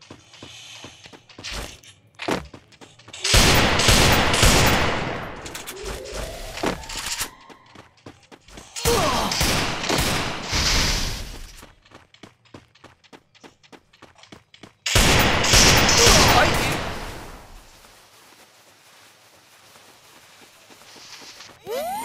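Desert Eagle pistol gunfire in Free Fire, three loud stretches of rapid, heavy shots separated by quieter gaps with scattered clicks and thumps.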